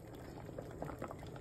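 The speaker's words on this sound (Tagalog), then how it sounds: "kumulo na" A pot of mung bean and vegetable soup at a rolling boil, a close, steady bubbling and popping that stays soft and even throughout.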